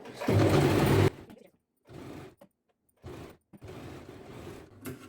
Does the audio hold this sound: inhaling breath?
no